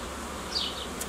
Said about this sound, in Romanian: albinele care sunt lângă mine nici nu mă deranjează